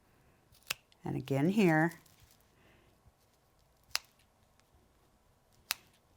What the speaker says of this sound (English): I'm going to cut my corner